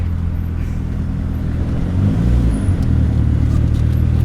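The engine of a Mk4 Ford Escort RS Turbo idles with a steady, loud low rumble that holds even, swelling only slightly partway through.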